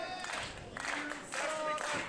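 An indoor wrestling crowd cheers and claps for Brandon Gatson during an FSW No Limits title match, a steady roar of voices and applause swelling in two waves, with a commentator speaking over it.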